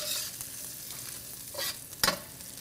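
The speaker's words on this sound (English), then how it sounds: "I'm going to add the shrimp. Here we go. Stir fry that until fragrant." Shrimp stir-fry in a hot wok for pad Thai, a bright continuous sizzle with short bursts of spatula scraping and tossing, close and moderately quiet, no voices.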